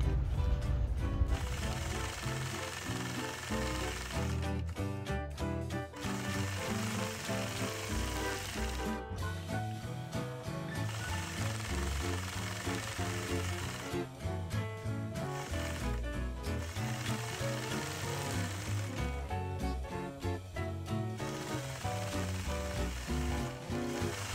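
A quilting machine stitches a scalloped border in rapid, steady mechanical runs, a buzzing whir broken by short pauses, close and continuous with no talking.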